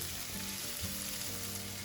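Peppers sizzle in hot oil in a pan while a Bahian fish moqueca is cooked, a steady, dense frying hiss that holds unbroken throughout, with low tonal background sounds underneath.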